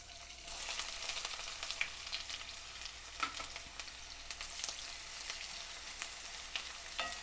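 Green chilies, chopped mint, grated ginger-garlic and finely chopped onion fry in hot oil for a biryani, giving a steady close crackling sizzle with occasional sharper pops and stirring clicks, no talk.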